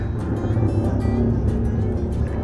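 Heavy trucks and other traffic passing on a road beside a house at night, a continuous loud low rumble of engines that stays close and steady throughout.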